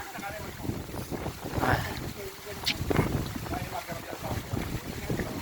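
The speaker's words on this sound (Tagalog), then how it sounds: "grabe ang hangin, ulan" Strong typhoon wind buffeting the microphone along with rain, a steady, loud, blustery roar with gusts rising and falling while a person talks over it.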